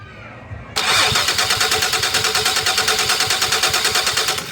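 A Mazda MPV 3.0 minivan engine with power loss that won't accelerate cranks and catches after a brief quiet moment, then runs with a loud, steady, rapidly pulsing beat close by.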